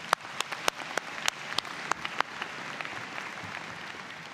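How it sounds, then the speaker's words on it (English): The audience at a university convocation ceremony applauds for the president. A broad wash of clapping is punctuated by a few sharp, close claps that fade off toward the end. "let's give a great big hand of applause for our President as well"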